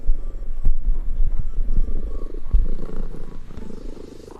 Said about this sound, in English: She's purring really fucking loudly.